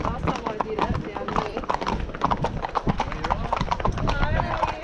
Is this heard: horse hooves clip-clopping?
yes